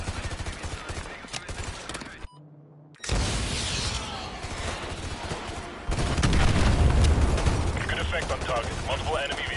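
A missile strike in Call of Duty Modern Warfare 2 Remastered erupts in heavy gunfire and explosions, cutting out briefly before a loud blast resumes the combat din, with deep rumbling booms building toward the end.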